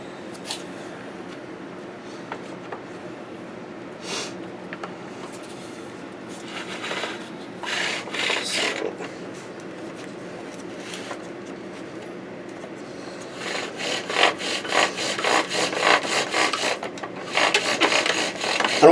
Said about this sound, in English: I don't know if bow drill is going to work